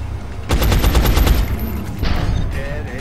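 Rapid automatic gunfire from a soldier in the strategy game XCOM: Long War, a dense burst of sharp cracks followed by a second, softer volley with fading echoes.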